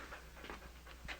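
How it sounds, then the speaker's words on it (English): A dog pants in quick, soft breaths close by, alone over a faint low hum. "That's a mighty curious dog you've got there, Mr. Crabtree."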